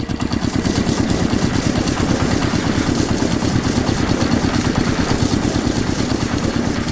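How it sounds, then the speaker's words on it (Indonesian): Large factory machines run with a loud, steady pulsing drone, a rapid regular mechanical throb that continues unchanged without pause. "Suara mesin pun mengisi udara, membuat suasana semakin menarik."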